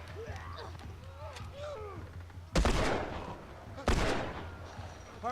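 Two loud, sharp gunshots ring out in the video game The Last of Us Part II, about a second apart, after a quieter stretch of voices and ambient game sound.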